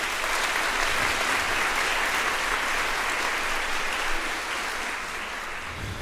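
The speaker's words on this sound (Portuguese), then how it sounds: "Eu queria uma salva de palmas para ele" Concert hall audience at an orchestral performance by the Porto Alegre Symphony Orchestra giving a continuous, evenly dense round of applause that stays steady for about six seconds and eases slightly toward the end.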